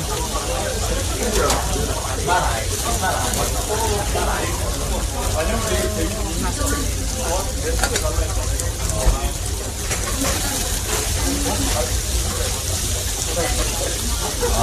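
Beef tripe gopchang and intestines sizzle on a grill at a Busan restaurant, a continuous crackling hiss that runs throughout while people talk over it.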